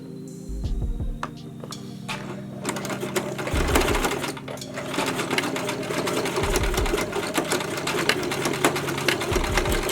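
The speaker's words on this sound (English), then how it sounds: "connect it together like this, and zigzag it close." A sewing machine runs in loud, close bursts while zigzag stitching the joined ends of a waistband elastic, its motor whirring and stopping and restarting several times with no talking.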